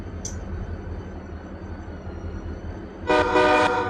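Three SD40 locomotives in the Run 8 train simulator hum steadily in a rail yard, then a loud horn blast cuts in near the end.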